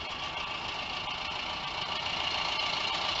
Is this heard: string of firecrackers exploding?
no